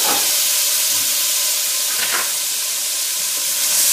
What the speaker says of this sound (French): là je rajoute mes tomates